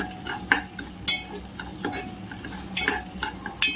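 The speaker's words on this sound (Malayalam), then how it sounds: "നമ്മൾ സ്ലൈസ് ചെയ്ത് വെച്ച അനിയൻസ് ഇതിലേക്ക് ഒന്ന് ഇടാം. ഇതൊന്ന് ഇളക്കിയെടുക്കാം." Sliced onions sizzle in a hot pan for veg pulao as a spatula stirs them, repeated scraping clatters against the metal cutting through a steady close frying hiss, with no speech.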